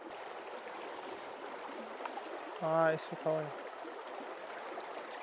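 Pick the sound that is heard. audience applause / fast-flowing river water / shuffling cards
fast-flowing river water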